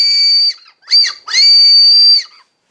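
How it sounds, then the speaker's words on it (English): Piercing high-pitched whistle from a Japanese Chorus whistle candy blown between the lips, sounding in three bursts: a half-second tone, a brief chirp, then a longer steady note, loud and close with no talking. "So you put it between your lips and you blow and it sounds"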